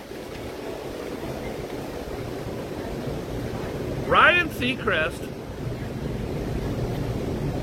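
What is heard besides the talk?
wind blowing outdoors by the water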